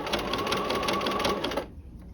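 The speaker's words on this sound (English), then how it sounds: "as I'm sewing." Sewing machine stitching a narrow rolled hem with the cord held at an angle, a close steady mechanical whir that runs continuously for about a second and a half, then stops abruptly.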